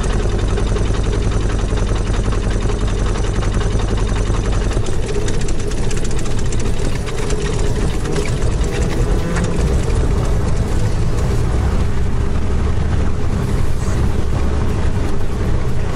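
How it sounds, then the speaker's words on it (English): A fuel-injected aircraft piston engine being hot-started, a steady loud mechanical drone that fills the clip with low rumble, growing rougher and heavier partway through as the engine catches and runs on its own. "hot starts are pretty difficult with the fuel injected engine"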